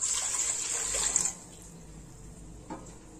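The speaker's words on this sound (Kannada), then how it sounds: "ಈ ಇಡ್ಲಿ ಕುಕ್ಕರ್ ಅಲ್ಲಿ ನಾನು ಇಡ್ಲಿ ಮಾಡಕ್ಕೆ ಇಡ್ತಾ ಇರೋದು ನೀರು ಹಾಕ್ತಾ ಇದೀನಿ" Water pours into an idli cooker in a loud, hissing stream for just over a second, then stops, leaving quiet with a faint single clink near the end.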